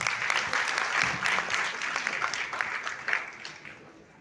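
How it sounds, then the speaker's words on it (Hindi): A burst of clapping from a crowd at an event at the Crowne Plaza Delhi, fairly close, peaking early and gradually tapering off over a few seconds. "वेलकम सोसाइटी के लिए एक बार जोरदार तालियां हो जाए।"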